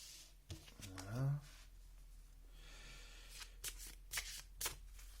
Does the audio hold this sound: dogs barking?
no